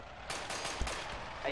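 Rapid gunfire in the tactical shooter game Project Reality during a night co-op match, several sharp bursts crackling in quick succession for about a second amid steady background noise.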